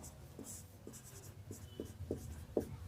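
Pen strokes scratching across paper while solving a Class 10 mensuration problem in a math lesson, a steady series of short repeated scrapes under faint background hum, no voice.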